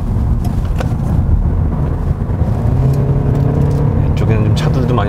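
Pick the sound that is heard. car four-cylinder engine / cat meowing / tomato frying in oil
car four-cylinder engine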